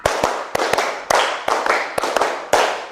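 Indonesian classroom clap game at a teachers' event: a group claps together in sharp rhythmic bursts, repeated patterns of quick doubled claps, loud and close, with no talk over them.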